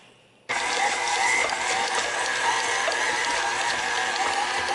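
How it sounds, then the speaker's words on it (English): A stand mixer's paddle churns a meatloaf mixture, starting abruptly after a brief quiet moment and then running as a loud, continuous mechanical grinding whir close by. "I just kind of hit it a little bit with the blending paddle, and I just kind of see how it's going"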